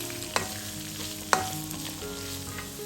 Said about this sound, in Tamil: ஒரு மீடியம் சைஸ் வெங்காயம் ஒன்று போட்டு வதம் விடணும்